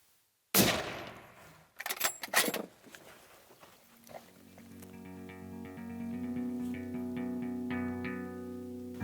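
A single loud rifle shot at a deer in a cornfield during a Thanksgiving hunt, a sharp crack followed by several rapid bangs and rattles, then a steady low rumble with tonal hum that may be cattle or vehicle noise.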